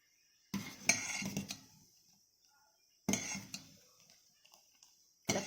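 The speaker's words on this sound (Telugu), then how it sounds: "ఇలా కలుపుతూ పోవాలి, లేదంటే ఒక్కసారిగా పొంగొచ్చేసి పడిపోతుంది." A spoon stirs ragi porridge sweetened with jaggery in a pot, scraping and clinking against the metal in three separate bursts with quiet gaps between, close and fairly soft, with no voices.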